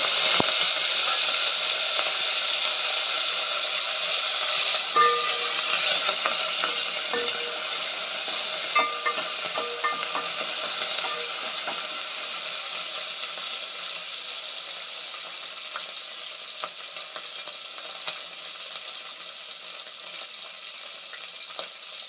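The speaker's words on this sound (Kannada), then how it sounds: "ಒಗ್ಗರಣೆಗೆ ಅಂತ ಈರುಳ್ಳಿ ಶುಂಠಿ ಬೆಳ್ಳುಳ್ಳಿ ಪೇಸ್ಟ್ ಮತ್ತು ಕರ್ಬೇವಿನ ಸೊಪ್ಪು" Onion, ginger-garlic paste and curry leaves sizzle steadily in hot oil for a home-style sambar tempering, a constant bright hiss with occasional soft pops and a slow fade, no talking.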